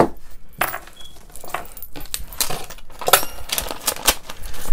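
Scissors snip off excess craft material for a Mother's Day project, a series of sharp, close clicks and cuts at an irregular rhythm with handling noise in between.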